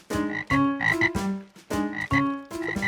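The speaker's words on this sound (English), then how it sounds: "Frogs." Loud, close cartoon frog croaks repeat in a steady rhythm, each a deep throaty call with short pauses between.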